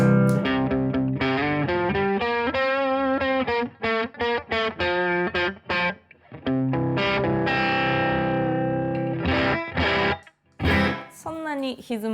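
Electric guitar played through an Arrows boost pedal set for light overdrive, giving a crisp, lifted volume: sustained chords and melodic phrases ring out continuously with brief gaps, loud and close, with no talking.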